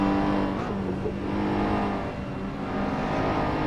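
GT3 race cars in a sim racing game at Circuit de Barcelona-Catalunya, a steady engine drone with held pitch tones as cars run close together, continuous and fairly loud with no pauses.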